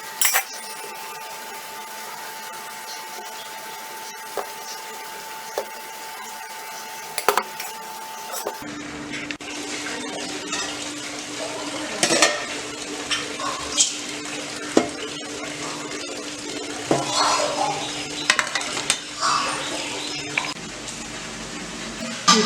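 Thinai millet idli batter is spooned into metal idli plates, with scattered clinks, taps and scrapes of a spoon against metal over a low background hum, continuing at moderate loudness throughout.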